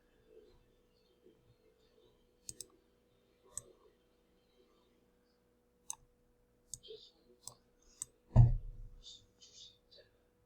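Sparse, faint mouse clicks come one at a time across the stretch while shapes are selected and grouped in TinkerCAD, followed by a louder low thump near the end.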